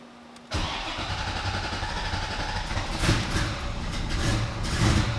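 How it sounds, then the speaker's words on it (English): A car fitted with MegaSquirt engine management fires up for the first time: a quick crank catches into a loud, rough running engine that surges unevenly, revving up a few times. "So I'm gonna try to start the car up and see if I can see anything."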